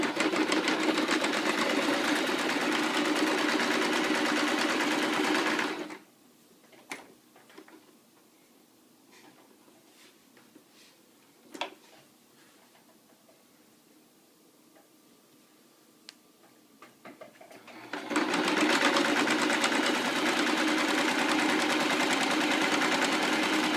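A home sewing machine stitching rag quilt seams runs loud and steady for several seconds, stops for a stretch of quiet broken by small clicks and taps while the fabric is repositioned, then starts sewing again.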